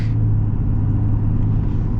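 A 2024 Chevy Silverado ZR2 with the Duramax diesel, running 33-inch tires, accelerates as a steady, heavy low rumble that holds evenly for about two seconds, with no talking.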